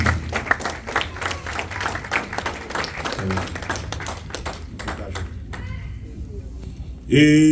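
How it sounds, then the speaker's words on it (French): A wedding congregation breaks into sustained, rapid clapping through the ceremony, a dense patter of many hands under a speaking voice. Near the end, a voice or music swells louder. "Applaudissons le Seigneur une fois de plus."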